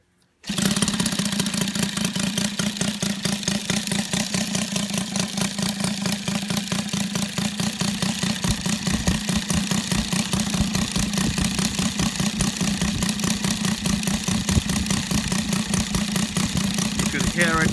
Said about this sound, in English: You can hear it idling on all of the cylinders.